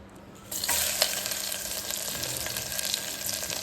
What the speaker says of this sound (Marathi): आपण हे डायरेक्ट अशी फोडणी द्यायची